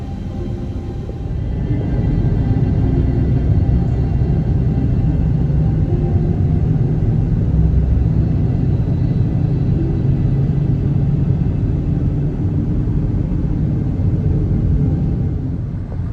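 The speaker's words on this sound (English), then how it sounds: "It's a lot of traffic." Heavy road traffic near Texas Motor Speedway, a loud, continuous low rumble of engines and tyres heard from inside a moving car, steady throughout with no talking.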